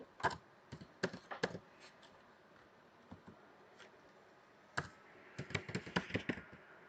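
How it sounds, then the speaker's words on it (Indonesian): Someone types code on a computer keyboard in short, quiet bursts of rapid key clicks with pauses between them, picking up into a denser run of keystrokes toward the end. "kalau kita ketik seperti biasa"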